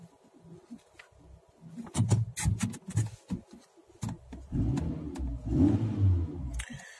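A car engine revs in several short bursts, rising and falling, just after starting with the key in the ignition, with a steadier run of engine noise near the end; no talking.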